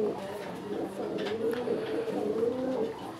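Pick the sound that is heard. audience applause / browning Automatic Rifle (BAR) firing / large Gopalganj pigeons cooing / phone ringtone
large Gopalganj pigeons cooing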